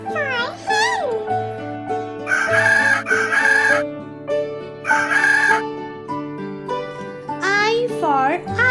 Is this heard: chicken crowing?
yes